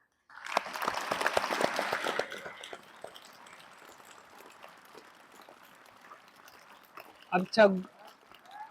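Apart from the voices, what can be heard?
students applauding to thank the teacher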